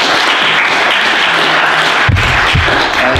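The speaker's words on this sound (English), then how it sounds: "please give them a round of applause for coming in tonight" An evening clean-energy talk in Shawnigan Lake, BC, where an audience applauds its guest speakers with loud, dense, sustained clapping that fills the room, and a couple of low thumps come near the end.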